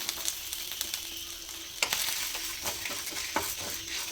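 Chilies frying in hot oil in a pan for a Mangalore cucumber sambar, a steady close sizzle with occasional stirring clicks and scrapes, no talk.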